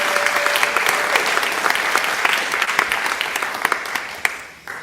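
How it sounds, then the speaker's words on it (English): A concert audience applauds the event's business sponsors with steady, dense clapping that holds for several seconds and then thins out toward the end. "Give them a hand."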